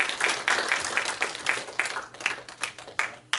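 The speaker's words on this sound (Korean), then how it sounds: "주님께 영광의 박수 한번 돌립시다." A church congregation claps together in a quick, uneven burst of applause filling the room, fairly loud and continuous.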